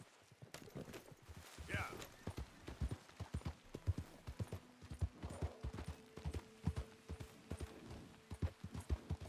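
Horse hooves galloping in Red Dead Redemption 2, a fast, even clip-clop beat that stays close and prominent throughout, with faint voices and a sustained tone underneath.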